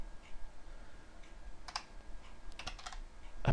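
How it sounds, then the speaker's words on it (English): Quiet keyboard typing, scattered key clicks arriving in short bursts, one louder tap at the end, with no voices. "Whew, that was a lot of typing."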